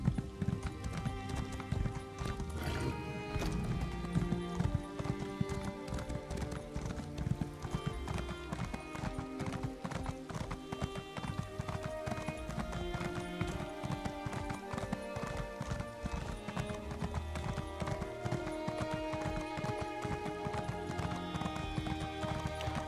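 Horse hooves clip-clop steadily and loudly while riding in the video game Elder Scrolls Online, a continuous rhythmic trot over game music and ambience, with an occasional whinny.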